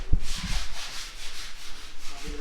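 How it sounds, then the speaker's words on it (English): Someone sands skim coat on a wall in a house pantry under construction, making a continuous, close, rhythmic scraping rub with a few dull knocks at the start. "we're now sanding some of the skim coat here in the pantry area."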